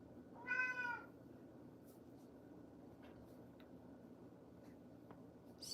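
A pet cat lets out a single clear, drawn-out meow early on, close to the microphone, then only a quiet room hum with faint small clicks remains.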